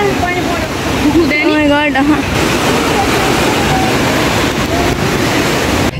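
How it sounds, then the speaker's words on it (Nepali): Loud, steady rushing of the Torsa river fills the whole clip, with a voice speaking over it briefly near the start. "हेर्नु पानी कराउँदैछ"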